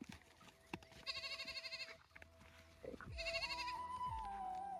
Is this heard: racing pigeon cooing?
no